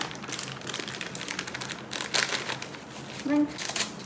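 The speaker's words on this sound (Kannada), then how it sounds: "Aluminium foil." Aluminium foil, used with hot water, lemon juice and soda to clean silver puja items, crinkles and crumples nearby in short, uneven bursts, loudest toward the end.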